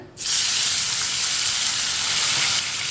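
Whole cumin seeds and chopped ingredients roast in a hot pan for rajma, giving a loud continuous sizzle and hiss that starts abruptly and holds steady, close up.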